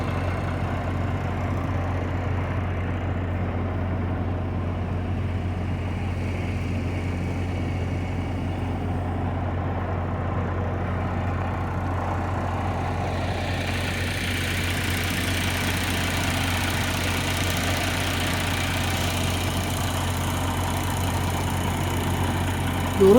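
Freight train of heavy 125-ton cars braking on a rail ramp, a steady low rumbling roar that holds throughout, brightening with a harsher hiss in the second half, with no voices.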